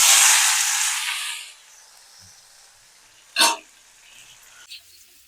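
Tomato poured into hot oil tempered with fennel seeds and small dried red chillies gives a sharp, loud hiss that fades over about a second and a half, leaving near-quiet with a couple of brief faint clicks.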